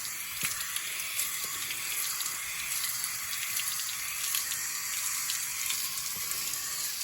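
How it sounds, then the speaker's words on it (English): Steady spray of water hissing and splashing onto a hard surface, constant and fairly faint, with no voices. "And then we sort of fill in the middle with the water."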